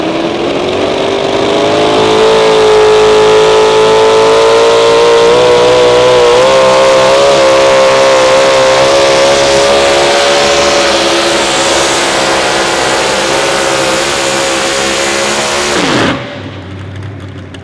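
A big-block engine in a modified 4x4 pulling truck roars loud and near at an outlaw truck pull in Wisner, Nebraska, holding a sustained high rev that climbs slowly before cutting off abruptly near the end.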